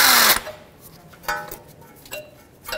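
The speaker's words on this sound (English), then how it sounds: "With the 12 millimeter, let's remove this bolt right here." A 12 millimeter wrench works a bolt loose during front strut replacement on a 2009-2013 Honda Fit, with a short loud burst at the start followed by several scattered metallic clicks and ratcheting ticks, close by.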